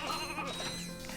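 Sheep in the Starship Troopers video game give a short bleat, faint and quick, over a low game soundscape with no talking.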